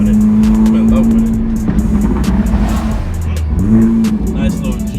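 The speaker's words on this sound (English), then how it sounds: "Nice little G37 just passed by and looked nice." An Infiniti G37 car drives past on a street, its engine note a steady droning hum that dips and then swells again as it goes by, with a person talking over it.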